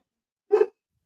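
A dog gives one short, sharp bark, loud and close, as if carried through an amplifier, standing alone in otherwise silent surroundings.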